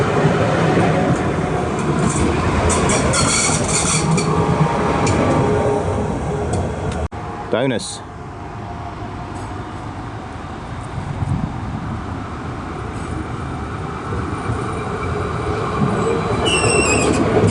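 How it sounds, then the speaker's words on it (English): A Croydon tram rolls past close by in London with a sustained rail rumble, clicking wheels and a sharp squeal midway through, then eases into a steady rolling noise. A brief spoken word is heard. "here comes one of London's only trams, the Croydon tram system"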